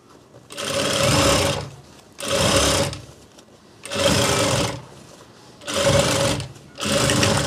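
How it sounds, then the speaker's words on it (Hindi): A sewing machine runs in five bursts of stitching along the edge of a kurti's back neck, each lasting about a second with short pauses between, loud and close with no talking. "यहाँ पर हल्का पक्का करके इसके किनारे पर एक सिलाई लगा लेंगे इस तरीके से।"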